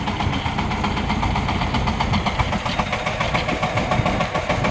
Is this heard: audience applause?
no